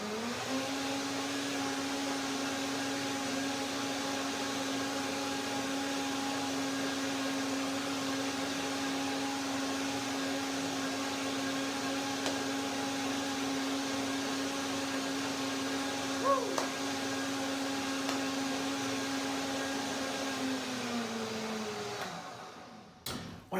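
A blender whirs steadily while blending chocolate hazelnut banana milk, a constant motor drone close by that runs for over twenty seconds before cutting off abruptly.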